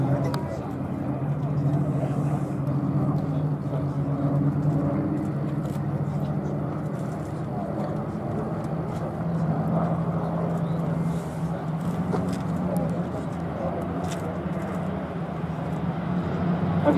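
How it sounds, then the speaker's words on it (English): Two P-51 Mustangs fly in formation with the B-17 Sally B at a Duxford air show. A steady, droning wash of piston-engine noise holds throughout at moderate distance, under continuous commentary. "here we see the two little friends, the two Mustangs, forming up on B-17 Sally B"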